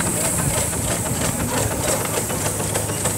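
Miniature agricultural steam engine in a rally parade, a steady hiss with soft rhythmic chuffing and low mechanical rumble, outdoors among crowd noise.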